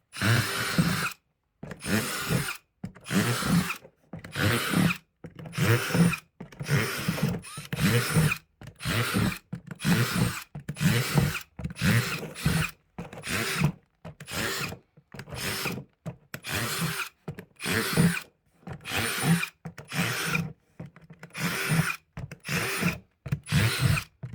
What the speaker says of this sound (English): they all need holes put in the bottom of them first. So let's put plenty of drainage in